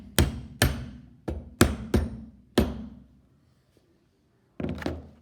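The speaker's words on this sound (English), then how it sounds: "When you're ready, hammer them home." Hammer blows drive nails into wood while a double rebate joint is made for a sling puck game board. Six sharp, loud, close strikes come in an uneven rhythm, then a pause, then a final pair of quick hits.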